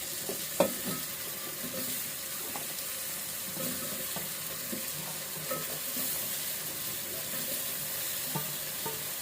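Potatoes, flat beans, cauliflower and spring onions are stirred in a pan, giving a soft continuous sizzle with scattered scraping taps of the spoon against the pan over about nine seconds.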